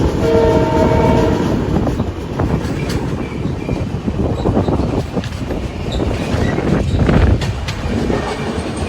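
A Humsafar Express passenger train runs toward Anand Junction in Gujarat, its horn sounding in a steady blast at the start over a continuous loud rumble and clatter of wheels and carriages, with no talking.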